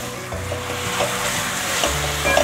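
Green peppers are stir-fried quickly in a wok with sugar and ketchup seasoning, giving steady close sizzling with scraping stir strokes and no talk.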